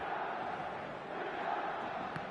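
Stadium crowd noise from a football match in a video game, a steady dense roar of many voices that holds at an even level throughout, with no clear speech above it.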